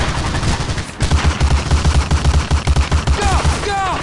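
Gunfire in the 2002 video game Medal of Honor: Allied Assault, a rapid, steady machine-gun burst of evenly spaced shots for about two and a half seconds, loud and close, followed by ricochet-like whines.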